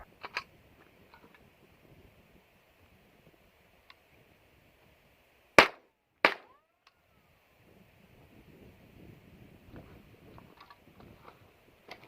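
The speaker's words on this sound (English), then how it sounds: "first, we're going to shoot the American Eagle standard velocity" Two sharp rifle reports from a Ruger 10/22 Target Lite firing American Eagle standard velocity .22 ammo, spaced about half a second apart, loud and close against faint outdoor ambience with a quiet rustle before and after.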